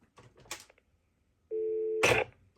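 A phone set to UK tones plays a steady two-tone dial or ring signal for about half a second, then a louder burst joins it, after faint handling knocks and clicks.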